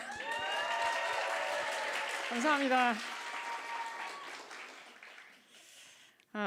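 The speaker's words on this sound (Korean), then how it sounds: "처음으로 이런 큰 박수 소리를 들어보네요" Church congregation applauding loudly for a few seconds, a steady wash of clapping with a voice speaking over it and briefly thanking them before it fades out.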